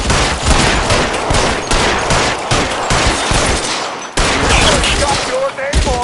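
Dense, sustained gunfire fills a shootout in the video game L.A. Noire, with rapid overlapping shots and bursts running nearly without pause, loud and close, one brief dip partway through before the firing resumes.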